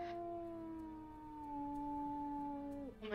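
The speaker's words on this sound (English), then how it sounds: "Oh my god, your howl is beautiful" A wolf in WolfQuest 3 lets out one long, smooth, sustained howl that holds steady, then bends downward and breaks off near the end, clear and alone.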